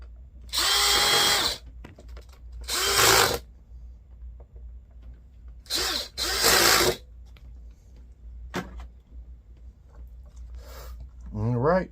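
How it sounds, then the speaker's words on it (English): A power drill on its lowest setting drives screws in short whirring bursts, two longer runs and then a quick pair, close and loud, with a voice speaking between them. "we're on our lowest setting on the drill. We're going to push it over to tighten these screws"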